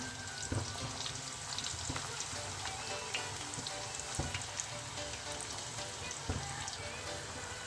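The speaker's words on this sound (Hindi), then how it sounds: "अब इसी गरम ऑयल में इस तरीके से मैं अपने पूरी पराठा जो है वो तलने के लिए डाल दूंगी" Puri paratha dough frying in hot oil gives a steady close sizzle and crackle, with scattered louder pops and bursts throughout and no talking.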